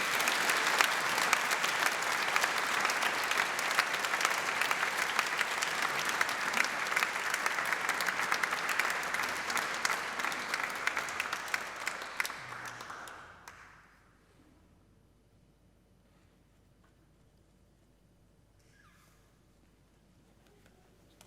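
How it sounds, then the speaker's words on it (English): An audience at an oration event breaks into loud, sustained applause, dense clapping for about thirteen seconds before fading abruptly into a quiet room with faint scattered sounds. "Please join me, everybody, in a very loud round of applause."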